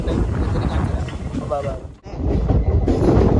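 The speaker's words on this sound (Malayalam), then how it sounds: "ട്രെയിൻ വരുന്നത് ആറാമത്തെ പ്ലാറ്റ്ഫോമിലാണ്" A train rumbles along the rails in a steady, dense roar near Kochuveli station, with a brief dip in the noise partway through before the rolling sound resumes.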